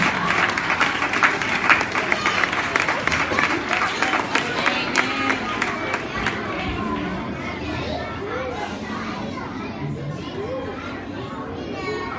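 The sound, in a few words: audience applause for a prize winner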